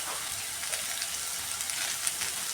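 Onions sautéing with turmeric powder in a pan for Kerala-style kadala curry, giving a steady, close hiss of frying and sizzling with faint crackles and no talk.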